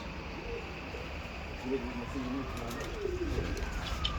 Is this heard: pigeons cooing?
yes